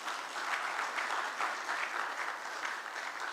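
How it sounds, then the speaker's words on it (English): An audience applauds at a national banking and ethics competition grand finale, a steady, continuous wash of many hands clapping at moderate distance. "Please, let's clap for him."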